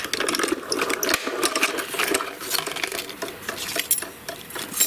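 A steady, close mechanical clicking and grinding as a hand-cranked die-cutting machine turns, cutting a die, continuous with no talking.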